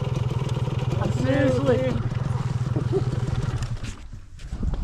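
A 250 trail bike motorcycle engine idles with a steady, close throb while people talk over it, fading briefly near the end.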